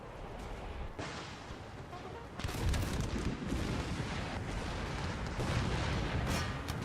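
Artillery fire in the Empire: Total War video game comes as a continuous rumble of distant cannon booms and rolling gunfire, quiet at first and then swelling into a heavier barrage.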